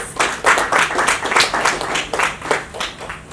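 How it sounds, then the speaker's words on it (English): Audience applause for event partners at a gala, a steady wash of many hands clapping, loud and close, rising and falling in waves without pause for about three seconds. "A big round of applause for our partners, please"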